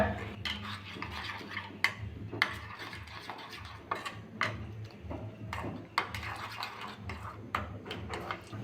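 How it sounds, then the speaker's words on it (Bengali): A spoon stirs spice paste with salt, ginger and a little water in a bowl for a cauliflower dish, scraping and clinking steadily and close by, with no one talking. "এবার ভালো করে গুলে নেব"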